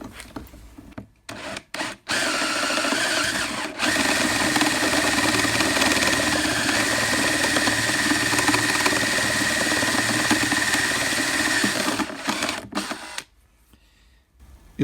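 A drill press bores a hole in a workpiece with a step drill bit, cutting up to its 8 mm third step. The grinding, whirring cut runs steadily and loudly for about ten seconds between short bursts at the start and a quiet tail at the end.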